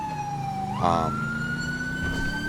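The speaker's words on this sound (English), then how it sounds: "down turns on your siren, which is the Epsilon siren, which we installed in part 3" An Epsilon police siren on a patrol car in GTA V with the LSPDFR mod wails steadily, then sweeps abruptly up into a higher continuous tone, loud and close with engine rumble beneath.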